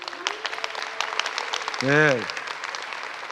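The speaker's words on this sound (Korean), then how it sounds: "박수 한번 더 쳐주세요." Audience applause at a choir seminar, a steady patter of many hands clapping throughout, running under a voice speaking over it.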